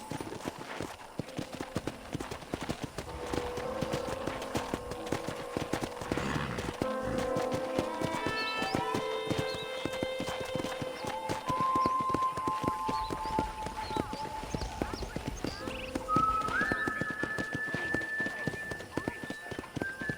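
Horse hooves clip-clop steadily while riding in the video game Red Dead Redemption, over a busy game soundscape, with a horse whinnying and a voice talking at times, plus tonal music-like chimes.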